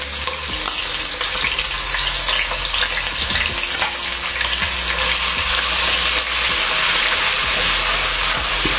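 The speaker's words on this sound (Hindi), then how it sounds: "ये मेरे पास 2 चम्मच अदरक लहसुन का पेस्ट है, वो भी हम इसके अंदर शामिल कर देंगे" Ginger garlic paste hits hot oil in a pot for chicken korma, giving a loud, continuous sizzle and frying hiss with some stirring scrapes, heard alone without talk.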